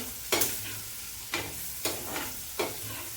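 Shallots sizzle quietly while sautéing in sesame oil in a pan, broken by four soft scraping stirs at a slow, steady pace, with no voices.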